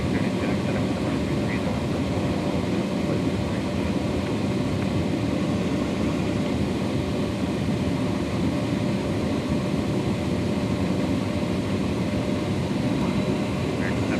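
A constant, loud jet engine roar continues evenly throughout, a dense cabin hum with no breaks or changes, inside an Embraer Phenom 100 business jet during a 45-degree banked turn.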